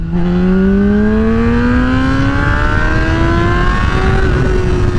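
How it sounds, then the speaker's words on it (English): A 2008 Honda CBR600RR fitted with a Vortex quick-acceleration chain and sprocket kit pulls hard in second gear from about 30 mph, its engine note rising steadily and loudly throughout with no voices over it. "let's do the second gear pull, starting at 30 miles per hour"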